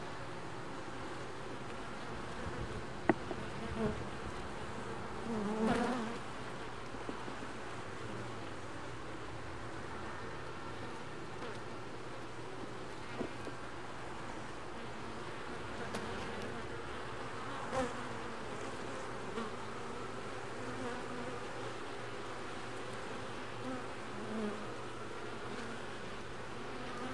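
Honeybees buzz around a hive on a stump, forming a soft, continuous drone with a few louder passes of single bees near the microphone, and no voices.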